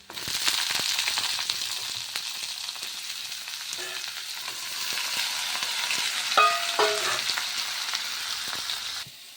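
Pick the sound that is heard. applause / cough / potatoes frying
potatoes frying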